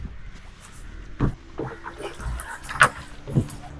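Someone steps into a small wooden fishing boat at Malpe harbour, making a few hollow thuds and knocks against soft lapping water, with a creak or two. The sounds are close and there is no talk.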